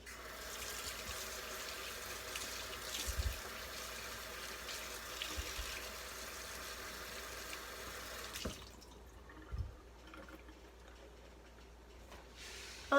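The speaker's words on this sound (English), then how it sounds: "So I'm going to rinse it in some cold water in my sink." Cold water runs from a kitchen sink tap over broccoli being rinsed, a soft steady hiss and splash that continues before stopping abruptly, leaving a quieter trickle and a few faint knocks.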